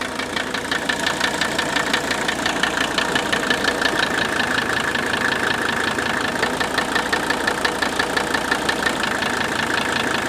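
A diesel engine idles with the injector nut loosened on cylinder one, producing a loud, steady rapid knocking clatter with an even rhythm throughout and no voices.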